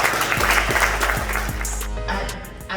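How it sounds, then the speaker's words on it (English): An audience applauds at a community talk in Newburgh to welcome a former mayoral candidate. Dense clapping fills the opening and then thins out, with some tonal background sound mixed in. "Please give her a round of applause because this is special."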